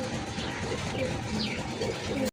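Large Gopalganj pigeons coo softly and repeatedly at close range over a steady low background hum.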